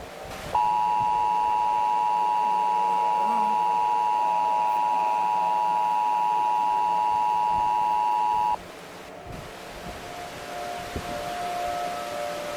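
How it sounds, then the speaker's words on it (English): The Emergency Alert System attention tone sounds as a steady, loud dual-tone sustained alarm for about eight seconds, then cuts off abruptly, leaving quieter background noise with faint tones. "The emergency alert system has been activated."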